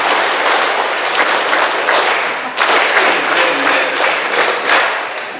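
A Korean Catholic congregation in Detroit joins in loud group clapping during a Trinity Sunday homily, aiming for the 3-3-7 rhythm; the sound is a dense, forceful burst of many hands with faint pulsing surges and a brief break partway through.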